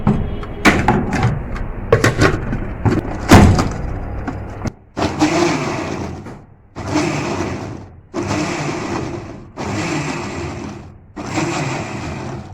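A blender motor whirs in short pulsed bursts as it chops onion with a little water, each burst starting and stopping in a steady rhythm, after some clattering and knocking at the start.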